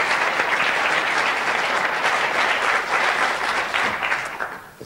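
A television game show studio audience claps loudly and steadily for departing co-hosts, a full, close wash of applause that tapers off in the final moment.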